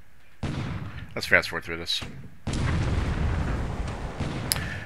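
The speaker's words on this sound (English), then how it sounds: "One of my cruisers bombarded." Cruiser bombardment in the naval strategy game War in the Pacific: a dense, sustained rumble of artillery fire with repeated booms, following a stretch of someone talking.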